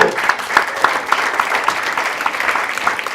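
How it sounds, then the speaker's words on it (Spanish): A church congregation at an evening men's campaign service claps in a steady rhythmic beat, each clap sharp and regular over a soft background of crowd noise. "Un aplauso para Cristo."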